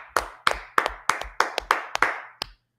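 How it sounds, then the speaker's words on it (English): A congregation at a religious brotherhood class claps in a steady rhythm. About eight sharp, close claps arrive at even intervals, then stop into silence. "Let's clap it up for the Lord."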